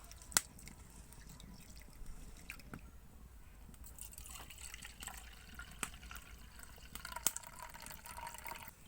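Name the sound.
washing mung dal lentils in water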